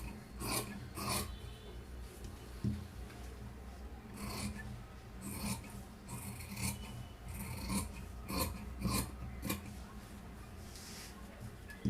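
Scissors cut through chudithar fabric, making soft, close rasping snips in an uneven rhythm that stay quiet throughout.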